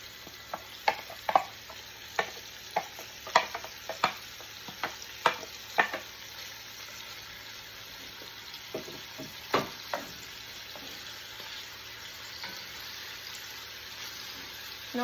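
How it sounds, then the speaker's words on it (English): Beef and onion sizzle in a pot for homemade stew, with a soft continuous frying hiss broken by a series of sharp scraping stirs and clinks in the first half, then quieter steady sizzling. "And I'm going to let the meat get brown."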